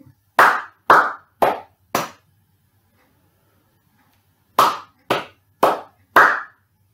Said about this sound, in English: you're writing down the number of the rhythm I'm clapping